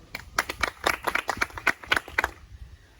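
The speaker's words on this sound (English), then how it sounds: "Give them a huge round of applause." Round of applause at a classroom science quiz, a small group clapping in uneven sharp bursts that fade out by the end, close and fairly loud.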